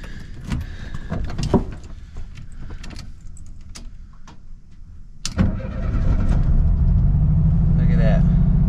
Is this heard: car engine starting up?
yes